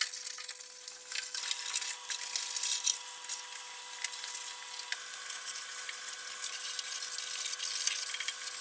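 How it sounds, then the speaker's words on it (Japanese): Water from a hose or tap spraying steadily over a rusty Mazda RX-7 FD3S trunk after it has been scrubbed with detergent, a continuous hissing wash that shifts slightly in tone partway through, with no talking. "洗剤で水洗いしていきます"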